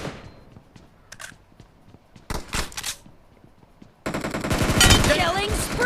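Video game gunfire plays on a phone, with scattered single shots and clicks, a pair of sharp bursts, then a sustained loud rattle of automatic fire with mixed effects and voices.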